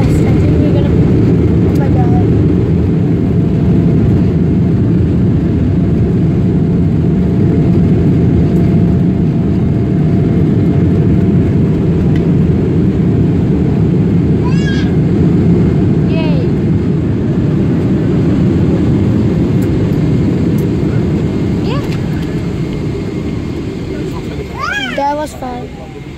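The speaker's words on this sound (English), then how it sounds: "We're landing, and we have landed, and the plane is so fast." A passenger airplane lands, its engine and rolling roar filling the cabin as a loud, steady drone that fades slightly near the end, with faint cabin sounds over it.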